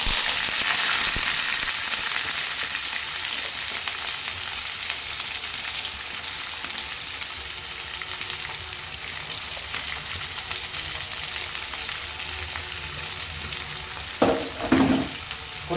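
Onion, carrot, beans, cabbage, green and dried chillies frying in a pan for upma, a steady close bright sizzle with light stirring scrapes near the end.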